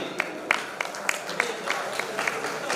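At a radio listeners' convention in Buldhana, an audience gives a thin, scattered round of claps: about eight distinct hand claps at a steady pace over a soft background murmur.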